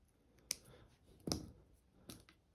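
Cutters trim a hair-thin wire strand with three sharp, quiet snips spaced under a second apart, alone in an otherwise hushed room.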